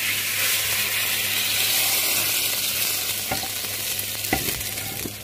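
Tempering for sprouted horse gram saaru, seasoned with dry coconut and byadgi chillies, sizzles steadily in a pan as a continuous frying hiss with a few sharper crackles near the end, fairly close.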